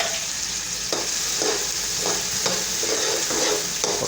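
Ginger and garlic fry in hot oil in a pan for vegetable pulao, a steady close sizzle broken by a few soft scrapes of stirring, with no talking.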